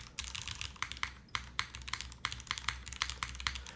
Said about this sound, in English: I think the spacebar sounds quite nice. All the mods sound good.